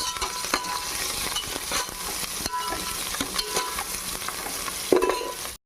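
Coriander and mint leaves sauté in a pan while cooking Hyderabadi bagara rice, giving a steady sizzle with repeated stirring scrapes and a sharper clatter near the end.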